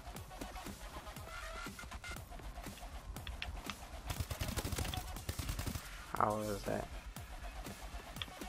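Shotgun and other gunfire in Call of Duty: Advanced Warfare free-for-all multiplayer, with scattered shots and a rattling burst mixed under steady talk and game noise.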